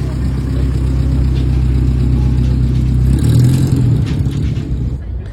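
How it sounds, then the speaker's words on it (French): A Peugeot 302 Eclipse engine on a race circuit, with a loud, steady low mechanical hum and drone that shifts pitch partway through and then fades, near, while a voice talks over it. "Ici une 302 Eclipse de chez Peugeot."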